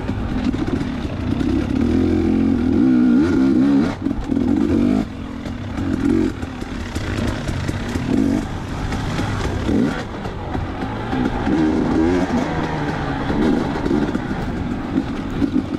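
Dirt bike racing at the Mag 7 Smoking Rabbit GP, a steady loud engine drone with shifting pitch as the bike revs and shifts gears throughout, close and continuous with no talk.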